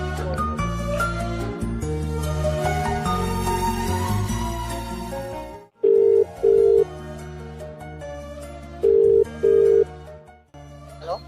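A telephone ringback tone sounds as a call is placed, two pairs of steady, evenly spaced beeps following loud music that cuts off.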